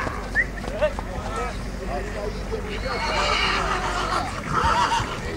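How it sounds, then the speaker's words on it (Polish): Horses neigh and whinny at a horse fair in Skaryszew, Poland, several rising and falling calls near and at middle distance, over a crowd's murmur, wind and people talking. "Dobry charakterny koń."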